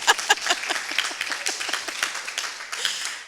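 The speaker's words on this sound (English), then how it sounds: "Okay, clap for Itoko." Audience clapping at a town hall meeting, a dense burst of many hands that starts strong, thins out briefly, then swells again before fading over a few seconds.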